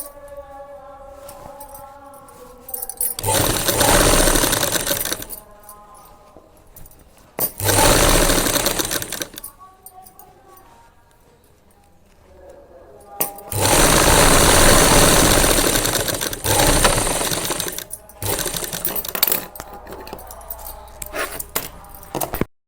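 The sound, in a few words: sewing machine stitching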